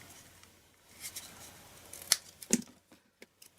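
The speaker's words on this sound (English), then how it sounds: "Just angle your scissors and cut round the flower." Scissors snip around a paper flower cut from card scraps for a daisy lattice card, giving a few quiet, crisp cuts spaced apart with soft paper rustling between them.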